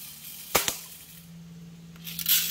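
A custom-built Daisy BB rifle fires at close targets: two sharp shots in quick succession, followed by a quieter stretch and a louder burst of impact noise near the end.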